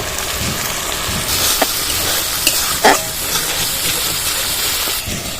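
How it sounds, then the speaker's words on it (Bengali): Masala for Bengali pabda fish tel jhal, with tomato and spice-rinse water, sizzling steadily in a pan while being stirred, with a few brief spoon scrapes and clicks; near and moderately loud, no talking. "মশলা ধোয়ানি জলটা দিয়ে দেবো এবং ভালোভাবে আমি কষিয়ে নেব"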